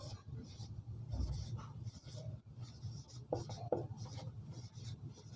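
Someone writes rational numbers by hand for a class 8 maths exercise, a soft ongoing scratch and rub of pen or chalk on a surface, close and quiet over low background hum.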